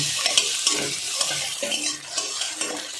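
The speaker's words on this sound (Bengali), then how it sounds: "তেলটা গরম হয়ে গেছে, আমি এবার ফেটিয়ে রাখা ডিমটা দিয়ে দেবো।" Beaten egg hits hot oil in a pan and fries into a light scramble, giving a bright close sizzle broken by quick scraping stirs of a utensil against the pan.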